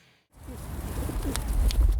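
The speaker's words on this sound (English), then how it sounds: "Watch out for the pigeon." Pigeon on a city street giving a soft cooing call against steady outdoor street noise, close and brief, with no talking.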